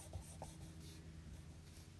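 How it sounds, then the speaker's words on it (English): A marker drawing a tree shape on folded flyer paper, with short scratchy strokes and squeaks of the tip rubbing across the sheet, quiet and close. "we're going to take one of our folded flyers and our marker, and we're going to draw our tree shape."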